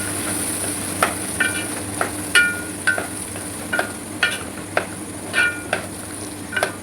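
Green peas stirred in hot coconut oil with curry leaves, giving a steady low hum under repeated sharp ladle scrapes and clicks against the pan, evenly spaced and close.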